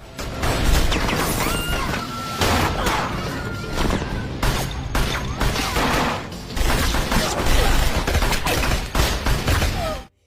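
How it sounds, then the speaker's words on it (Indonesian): A gunfire shootout between two armed groups in the film The Prince, with dense, continuous volleys of shots and crashing impacts, loud and close throughout. "Baku tembak di antara dua kubu itu pun tak terhindarkan."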